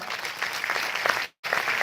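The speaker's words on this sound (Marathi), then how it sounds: "त्यांच्यासाठी एकदा जोरदार टाळ्या वाजवा" An audience at an education talk gives a loud burst of dense clapping that breaks off briefly for a moment of silence, then resumes just as strongly.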